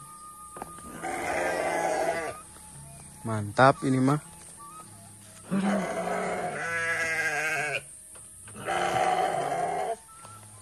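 Sheep in a pen let out several drawn-out, quavering bleats at close range, some overlapping, with a person briefly speaking between them.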